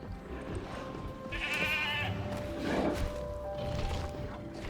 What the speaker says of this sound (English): Oh, the goats just got eaten.